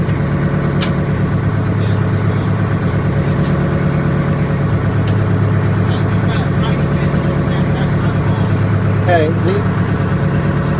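A broken-down Eagle bus engine idles with a steady low rumble close by, while a person speaks briefly over it.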